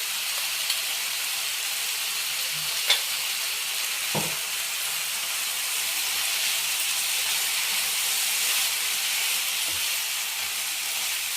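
A cauliflower fry with grated coconut hisses and sizzles steadily in a pan, with a couple of faint scrapes and taps from stirring under the continuous frying noise.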